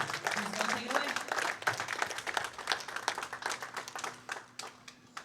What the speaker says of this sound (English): Let's give these ladies a huge round of applause right here.